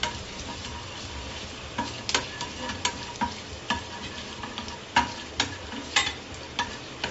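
Ingredients with chilli sauté in a hot pan, a steady close sizzle broken by repeated sharp spatula taps and scrapes against the pan, with no talk.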